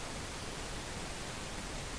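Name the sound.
pink noise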